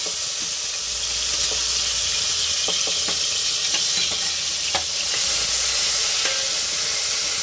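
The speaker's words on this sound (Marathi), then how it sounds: "टॅमॅटो असं छानपैकी परतून घेऊया." Tomatoes sizzle steadily while being sautéed in a hot pan, a continuous frying hiss with occasional soft clicks of a spatula, close and alone without speech.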